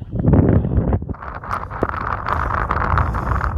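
Wind gusts across a mountain summit hike near Wheeler Peak in New Mexico, rumbling and buffeting close against the microphone in a heavy burst that eases into a steady, rougher rush.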